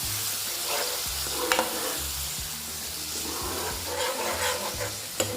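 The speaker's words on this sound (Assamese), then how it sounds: "এতিয়া আমি এইখিনি ভালদৰে ভাজি ল'ম" Pureed ripe tomatoes with fish and masala fry and get stirred in a pan, giving a steady loud sizzle with repeated scraping stirs and a few sharp clinks, no voices.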